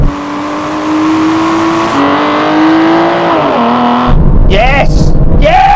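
Aston Martin cars in a drag race, one accelerating with wheelspin: a loud, close engine note climbs steadily through the gears with brief dips at shifts, then turns rougher near the end, with talk heard over it.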